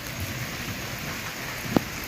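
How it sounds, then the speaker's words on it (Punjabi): Steady rain falls outdoors, a constant soft hiss with a single sharp drop or tap near the end and no voices. "ਬਾਰਿਸ਼ ਫਿਲਹਾਲ ਆ ਗਈ ਹੈ ਦੇਖ ਸਕਦੇ ਹੋ"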